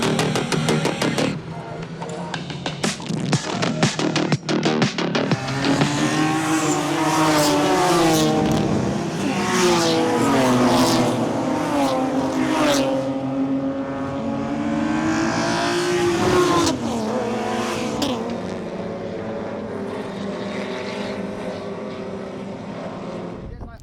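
A pack of BMW race cars roars away from the start of a circuit race, engines revving hard and shifting up in layered, overlapping waves, loud and close, with a commentator talking over the noise.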